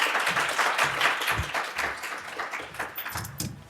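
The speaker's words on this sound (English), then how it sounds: "please give a big round of applause to our first panel" An audience at a health law event applauds as the first panel is welcomed. Many hands clap in a fairly close, continuous wash that thins toward the end.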